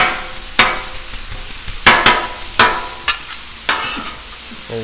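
Ground beef sizzles steadily in peanut oil in a pan, broken by several sharp spatula scrapes and chops as the meat is flipped and cut, with no talking.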